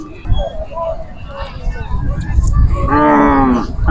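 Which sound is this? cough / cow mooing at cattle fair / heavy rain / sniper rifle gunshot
cow mooing at cattle fair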